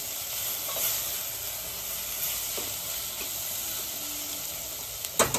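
Mixed vegetables and spices for tava pulao stir-fry in a hot pan, a continuous close sizzle and hiss with occasional scrapes of a spatula stirring, louder clacks near the end.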